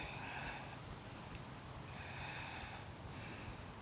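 Breathing during a power yoga triangle-twist pose: two long, airy breaths close to the microphone, the first a little before the second, both soft against a quiet background.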